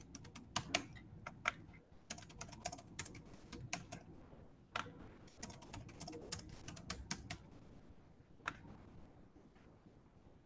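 A password is typed on a computer keyboard as a quiet, fast run of clicking keystrokes, coming in bursts with short pauses between them.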